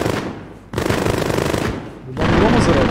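Bursts of automatic enemy gunfire in Call of Duty: Modern Warfare (2019) Special Ops, loud rapid-fire volleys in three sustained bursts separated by brief pauses, close and harsh.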